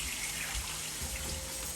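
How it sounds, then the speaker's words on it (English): Water pours steadily into a cooking pot while katahar and shrimp are prepared, a continuous close splashing rush with no talking. "So here I add in my 4 cups of water, and I'm gonna allow this to come up to a boil."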